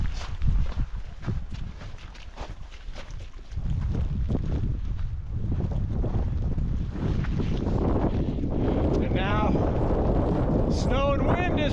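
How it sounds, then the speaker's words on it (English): Wind gusting across snowy slopes of Mount Hood in a June snowstorm, loud buffeting rumble against the microphone, with a person moving close by and a voice rising at the end. "Snow and wind has returned."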